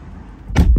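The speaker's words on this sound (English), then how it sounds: "close the door" A Mercedes car door swings shut with a single solid thump after a quiet moment, followed by a short rattling settle, close by.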